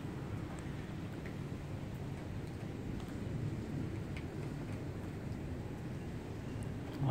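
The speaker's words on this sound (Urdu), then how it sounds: "کافی شدید بارش ہوئی ہے،" Heavy night rain falls steadily in Karachi during a storm with lightning, a continuous dense hiss and patter with a low rumble underneath.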